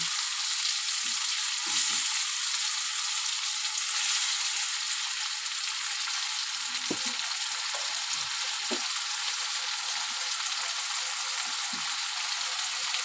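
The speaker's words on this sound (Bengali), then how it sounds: "ভালো করে কষিয়ে নেব।" Food being thoroughly sautéed with cumin in a pan, giving a steady, even frying hiss that runs throughout, with a few faint soft knocks and stirs underneath.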